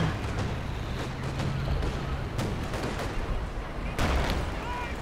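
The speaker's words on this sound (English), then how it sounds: "So artillery right there." Artillery fire in the Company of Heroes 2 video game rumbles through a dense, continuous battle soundscape, with heavy booms around the middle and near the end set over steady low-frequency noise.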